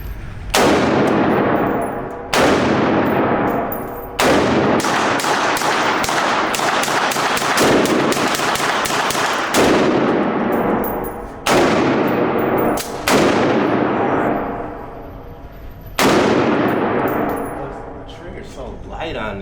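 Loud pistol shots at a shooting range ring out one after another, about eight sharp blasts with long ringing decay, irregularly spaced and close by.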